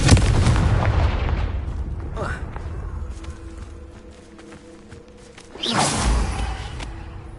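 A Confringo fire spell blasting in Hogwarts Legacy: a loud booming explosion with rumbling debris and whooshes, fading to a low hum, then a second heavy blast near the end.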